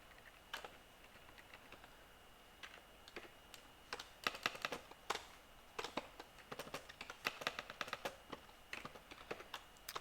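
Typing on a computer keyboard, irregular bursts of crisp key clicks growing busier midway, close and fairly quiet, with no speech.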